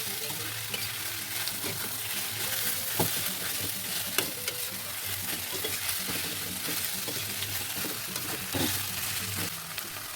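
Chopped spice paste and vegetables are stir-fried in hot oil, with a dense, steady sizzle and frequent clattering stirs and scrapes that carry on close and loud throughout.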